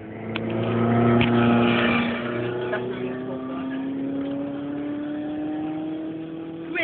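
Ferrari 430 at an airfield, its engine tone heard steadily with a slowly rising pitch as it moves past at moderate distance, with people talking over it.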